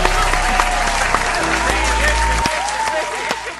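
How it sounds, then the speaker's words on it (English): Several people clap inside a car, brisk overlapping claps over a low rumbling cabin drone, with voices mixed in throughout. "I need everybody in the car to clap it up"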